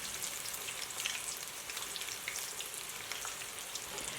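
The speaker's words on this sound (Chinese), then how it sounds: "排骨在锅内炸的时候要很勤快的翻一翻面" Pork ribs deep-fry in a wok of oil, a soft, even bubbling sizzle with fine crackles running throughout at low volume, no voices.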